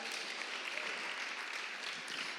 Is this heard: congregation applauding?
yes